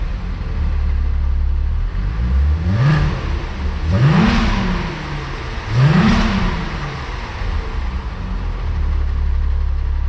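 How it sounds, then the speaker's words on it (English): A VW Jetta VR6 wagon, a MK4 with the 12v VR6 and stock exhaust, accelerates through three gear changes. Each pull climbs in pitch before dropping at the shift, and a steady engine drone runs underneath from fairly close by. "you can hear the car going through the gears and that kind of stuff with the stock exhaust"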